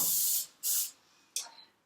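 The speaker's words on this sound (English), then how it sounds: "I'm going to use this cooking spray to spray my measuring cup." Cooking spray from an aerosol can misted into a measuring cup: three close, loud hissing bursts, the first two longer and the last shorter and fading.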